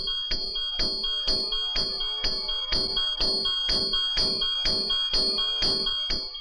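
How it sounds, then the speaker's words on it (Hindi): Telephone ringing in a Hindi film scene, a bright electronic ring repeating in an even rhythm of about a dozen sharp bursts, clear and alone. "ये फोन है।"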